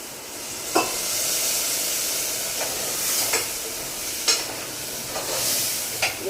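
Steady, hissing sizzle of cumin and coriander tempering in hot oil, with a few sharp pops and crackles scattered throughout.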